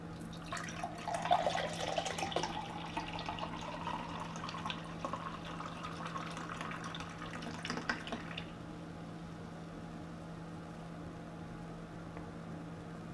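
Breckenridge Nitro Irish Stout beer pouring into a glass, a steady splashing liquid pour for about eight seconds over a constant low hum, then stopping and leaving only quiet room tone.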